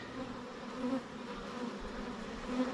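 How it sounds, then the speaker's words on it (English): Honey bees buzzing close around a beekeeper working an open hive, a steady, dense drone with slight swells in loudness throughout. "A couple bees on me."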